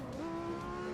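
A race car's tyres lock up and squeal under hard braking in the Automobilista 2 racing sim, one short, steady, high-pitched screech over the engine drone.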